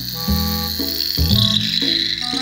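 A personal security alarm buzzer sounding after being dropped into water, giving a loud, warbling, insect-like electronic chirp that pulses in uneven bursts with shifting pitch.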